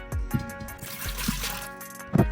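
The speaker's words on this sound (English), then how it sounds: "we're going to take 3 cups of water and we're going to pour them in there." Three cups of water pour into an Instant Pot's inner liner, giving a steady close splashing trickle with a few louder gushes across the pour.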